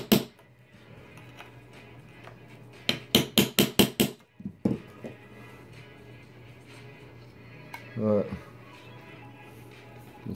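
A quick run of light metallic taps from a small hammer on a thin aluminum iPad or iPhone corner edge, about six in a row, with a few scattered knocks; a voice murmurs faintly in the background.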